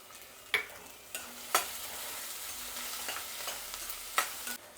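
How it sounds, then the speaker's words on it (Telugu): Garlic frying in hot oil for gongura dal sizzles steadily in a pan while a spoon stirs it, scraping in several sharp, close strokes spaced a second or so apart. "ఇప్పుడు ఇందులోనే తెల్లగడ్డ వేస్తున్నాను."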